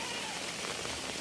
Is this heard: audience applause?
no